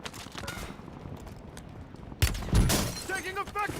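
Bursts of automatic gunfire in a multiplayer shooter game, distant rattling at first, then loud sharp volleys with impacts close by, mixed with game voice callouts.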